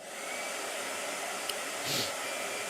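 A blow dryer runs steadily at close range with a loud continuous airy whir, rising briefly near the end, with no speech.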